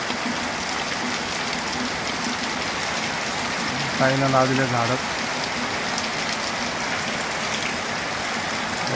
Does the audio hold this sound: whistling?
no